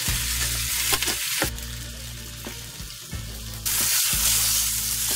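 Seal flipper meat sears in a hot pan with a steady crackling sizzle, close by, with a low hum under it and a few brief knocks and gaps before the sizzle swells louder.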